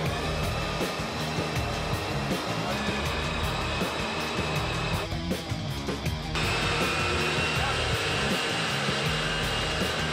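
Automatic transmission from a 1953 Chevy pickup project spinning on a torque converter dyno, a loud, steady, close whirring drone lasting throughout with slight shifts in pitch midway.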